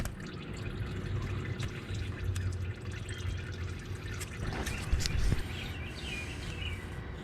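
Transmission fluid dripping from the drain of a Honda Pilot during a drain and fill, a steady close trickle and patter with a few sharper drips standing out near the end.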